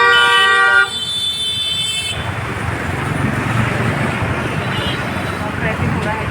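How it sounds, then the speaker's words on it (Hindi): Busy road traffic near a temple on an Indian roadside, opening with a loud sustained car horn blast that cuts off, then a dense steady roar of passing vehicles with faint honks in the distance. "और ट्रैफिक हो रहा है काफ़ी।"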